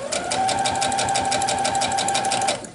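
Sewing machine stitching a quilt seam, a fast steady mechanical chatter of rapid needle strokes running continuously and close, then stopping at the end.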